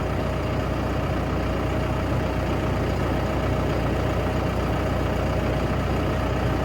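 A TYM T1104 tractor engine runs close by at a steady idle, a loud constant low rumble with a faint whine on top and no break in the sound.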